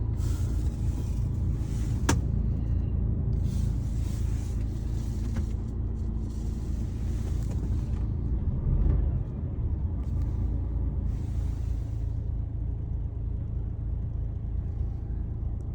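A DAF XF460 Euro 6 truck with its engine brake engaged gives a steady, loud low rumble that holds for about sixteen seconds, with a brief hiss partway through and no speech.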